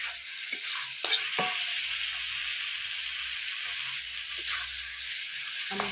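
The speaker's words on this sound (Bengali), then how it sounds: "এবার আমি জল দিয়ে দেবো।" Gourd fritters frying in a pan with water just poured in, giving a steady close hissing sizzle with a few sharper crackles and spatters, no voices.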